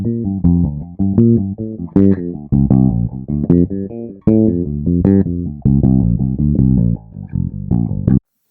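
Electric bass improvising a continuous string of plucked eighth notes with every fourth note accented, close and clear, moving through short melodic runs with a brief pause midway and no voices.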